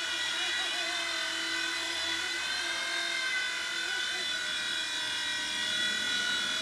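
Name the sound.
WL Toys V911 RC helicopter flying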